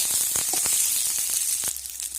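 Half-boiled potatoes fry in hot oil, giving a steady, loud sizzle with a few soft stirring knocks close by and no voices.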